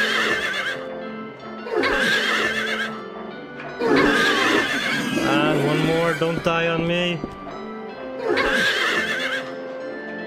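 Horses neigh and whinny loudly during a Silent Hill 3 boss fight, repeated shrill calls every couple of seconds over game sounds, with a player talking between them.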